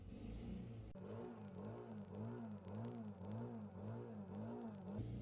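A small lawnmower engine hums steadily with a rhythmic wavering pitch, revving up after a second and holding, fairly faint and distant with no talking.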